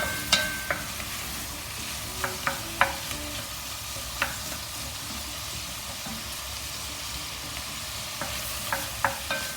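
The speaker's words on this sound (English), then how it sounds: "See, now I can see the onions are almost cooked." Onions frying in butter in a soup pot, a steady close sizzle with sharp scrapes and clicks as a spoon stirs them at irregular moments.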